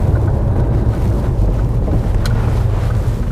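Mk1 Audi S3 engine pulling in fourth gear from low revs as the turbo boost builds, a loud, steady low rumble heard from inside the car with wind buffeting and no talking.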